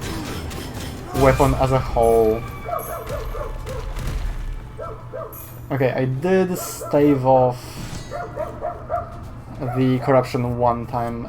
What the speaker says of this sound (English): Sorry about the barking dog, it's just outside the window